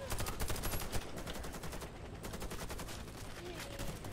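Rapid bursts of gunfire ring out from above in the video game Warface, a dense run of close, sharp shots in fast succession that thins slightly after the first second.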